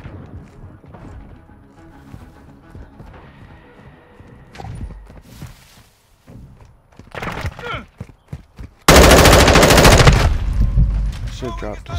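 Gunfire in the video game Call of Duty Modern Warfare 2, scattered shots and short bursts under a player's talk, ending in a loud, dense stretch of sustained firing.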